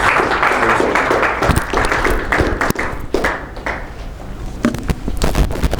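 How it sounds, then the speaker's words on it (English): Audience applause greeting a guest speaker at a lecture event on religious and liberal extremism in Pakistan; dense, steady clapping from a room full of people, loud and sustained throughout with a few sharper individual claps near the end. "I think we should give him a hand of applause."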